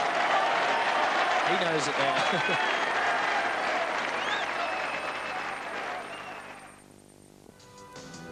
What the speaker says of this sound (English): Maybe the applause, I think they know it in the crowd.